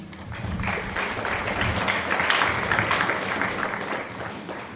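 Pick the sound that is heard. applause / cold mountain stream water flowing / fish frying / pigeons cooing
applause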